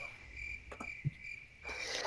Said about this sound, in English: No, that was the sound of crickets, Peter.